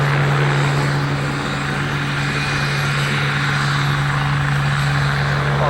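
A rotary-wing aircraft, an Agusta helicopter, runs steadily at an airfield as it prepares to take off, its loud continuous rotor and engine drone holding an even level throughout with a strong low hum.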